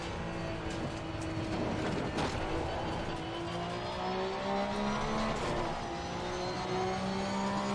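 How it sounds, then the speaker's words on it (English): A GT race car in Assetto Corsa Competizione revs hard through repeated gear changes, its engine whine rising and falling as it accelerates aggressively and brakes, loud and continuous throughout. "this lap, I'm going to do a lot of aggressive acceleration and braking to try to put heat in the tires"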